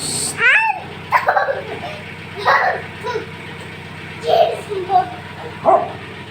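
A dog yips and barks in short bursts, interspersed with whimpering sounds and nearby voices talking.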